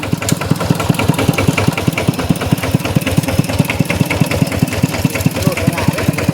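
A heavy tractor engine chugs loudly and close, with a fast, regular knocking pulse that runs steadily throughout.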